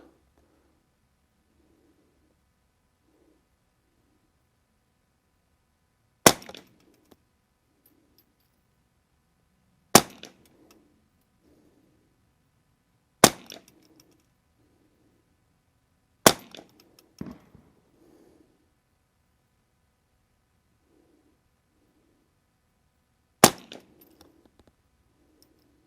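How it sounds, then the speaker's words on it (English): A Remington 550-1 rifle fires CCI Standard Velocity .22 rounds at a target, five sharp, loud cracks spaced several seconds apart over a quiet background, each followed by a faint ring or clatter. "Remington 550-1. Cci Standard Velocity, we're going to go with the target, second target down on the left"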